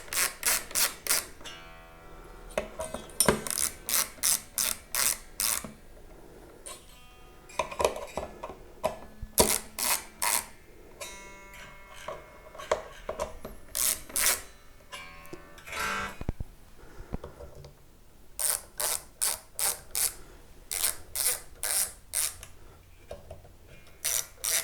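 A screwdriver winding the pickup height screws on a Thinline Telecaster build, heard as bursts of small rapid clicking and ratcheting ticks, close and quiet, with short pauses between turns.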